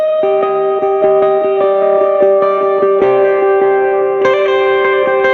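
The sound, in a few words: reverby electric guitar picking part through pedalboard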